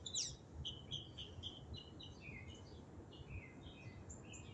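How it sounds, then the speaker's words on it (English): Small birds chirp and twitter outdoors in quick high bursts, several calls scattered across a few seconds at moderate distance over a faint, steady background hush. "being outside in nature, just listening to the birds"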